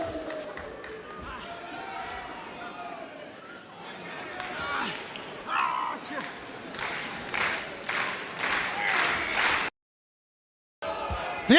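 A large arena crowd at an AEW Collision wrestling event in El Paso, Texas, roars and cheers in steady waves that swell louder toward the end, then cut out briefly before returning.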